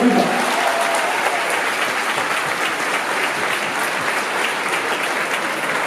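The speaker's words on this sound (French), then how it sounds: "Applaudissez cet homme courageux qui va permettre à vos questions d'être entendues." Convention crowd applauding at a manga event conference, loud, dense and even clapping that holds steady from start to finish with no speech.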